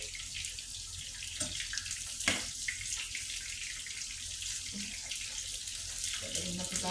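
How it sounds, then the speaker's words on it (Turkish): Tap water runs steadily into a sink as vegetables such as eggplant are rinsed, a continuous close hiss with small splashes and clinks through the stretch. "Yıkalım güzelce."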